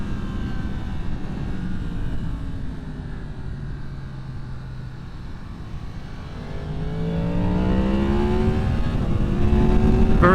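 A Yamaha MT-10 motorcycle on Route 60 drones steadily, then its engine note climbs as it accelerates hard toward the end, growing louder and rising in pitch, with wind noise underneath and no speech.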